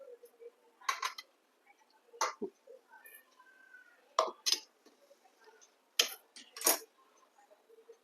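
A lid lifted off a cooking pot of steamed kharvas, a raw buffalo-milk colostrum pudding, gives a few sharp metallic clinks and clatters in scattered bursts, close and fairly quiet, with no talking.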